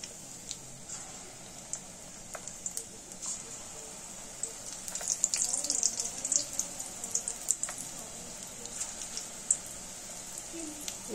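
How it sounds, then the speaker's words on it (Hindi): Pakoras deep-frying in hot oil give a steady, faint sizzle dotted with scattered small pops and crackles. The sizzle runs alone and stays quiet throughout. "तो अब हम अपने पकोड़ों को इसमें फ्राई कर लेते हैं।"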